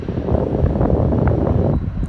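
Steady, loud wind on the top deck of a cruise ship rumbles and buffets across the microphone throughout, a dense low roar with no pauses.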